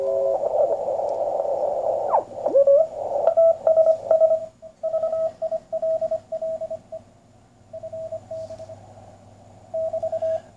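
CW Morse code radio signal from a cheap decoder setup: a steady tone keyed in dots and dashes, loud and clear with irregular gaps between characters over a low background hiss and hum.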